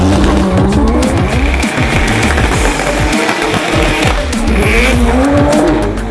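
Loud racing engines, including a turbo six and a 13B rotary-powered Nissan 180SX, roar continuously while tires squeal and skid in long screeching bursts at a motorsport festival drift challenge, a busy drift-track din with no pauses.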